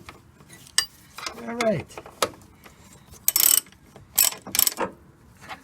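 Quick bursts of clicking from a ratchet wrench loosening a car steering bolt, arriving in short separated runs amid faint metallic handling, with a brief spoken remark near the start.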